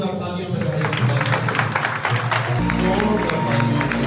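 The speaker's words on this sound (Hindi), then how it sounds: "जोरदार तालियां बजाएं।" A church congregation at a Palm Sunday celebration claps loudly and continuously, with music playing and crowd noise mixed in, close and full throughout.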